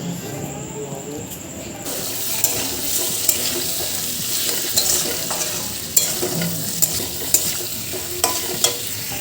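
Pumpkin pieces stir-fried in oil left over from frying papad, a loud continuous close sizzle and hiss with periodic sharp spatula scrapes and clacks against the pan.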